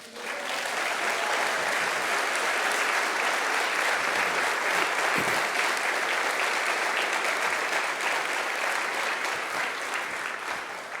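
A crowd at a Liberty & Love of Country church event applauds a family as they arrive, a dense, steady wash of clapping that holds at full strength for about eleven seconds before easing slightly at the end.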